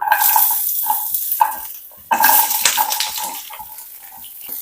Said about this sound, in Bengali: এই যে আদা রসুনগুলোকে একদম লালচে লালচে করে ভেজে নিলাম